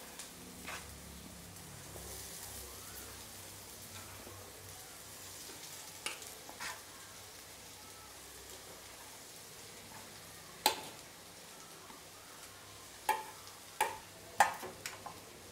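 Mashed potatoes stirred together with spices in a pan for garlic kofta, a soft low sizzle and scraping under a few sharp spoon clicks and taps that grow louder toward the end, with no talking.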